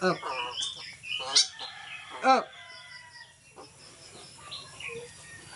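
Fowl calls, clucks and crowing-like cries near a person calling a bird to feed it, brief loud bursts over a quiet outdoor background with voices mixed in.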